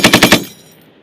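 Marine machine guns firing during a live-fire exercise: four rapid, loud, close bursts of shots in quick succession, then a fading echo tail.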